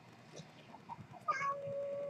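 A house cat meows faintly and briefly indoors amid quiet room tone, with a thin tonal sound trailing after the call.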